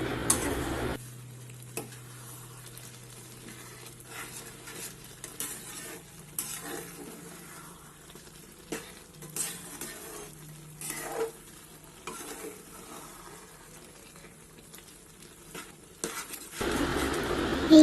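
Dal tadka masala sizzles in a pan while a utensil stirs and scrapes it in irregular strokes, fairly close, with no talk.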